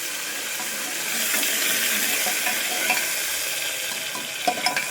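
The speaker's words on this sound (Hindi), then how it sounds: "टमाटर को अच्छी तरह मिक्स करेंगे।" Tomatoes being stirred and mixed in a hot pan, a steady scraping, sizzling wash that carries on alone with no talk and a few sharper clinks of the spoon near the end.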